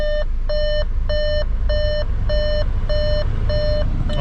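A 2013 Audi Q5 gives a repeated electronic warning chime during a heater blower motor replacement, seven evenly spaced tonal beeps in a steady rhythm over a low, constant hum from the blower.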